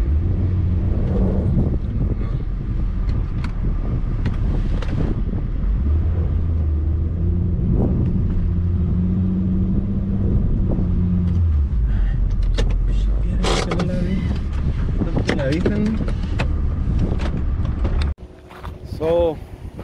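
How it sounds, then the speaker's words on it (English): Honda Ridgeline pickup truck crawling downhill in first gear over rough terrain, with a low, steady engine rumble and occasional rattles under someone talking, fading to quieter knocks at the end. "I'm gonna disengage the VTM 4 and just go on"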